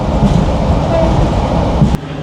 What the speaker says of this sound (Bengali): এই যে আমাদের ট্রেন প্রবাল এক্সপ্রেস এখন সাতকানিয়া রেলওয়ে স্টেশনে প্রবেশ করলো